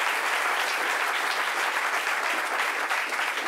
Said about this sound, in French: Applaudissements pour vous-même.